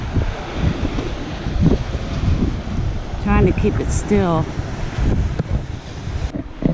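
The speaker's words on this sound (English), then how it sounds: "Look at those waves." Atlantic Ocean surf at Titusville rolls and crashes under strong gusting wind that buffets the microphone, loud and close, while people talk briefly over the roar.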